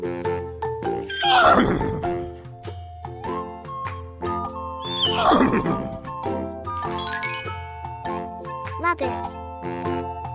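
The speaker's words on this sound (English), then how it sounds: "horse" A horse gives two loud, close whinnies a few seconds apart, each a shrill descending call, with faint jingling and a bit of clip-clop in between.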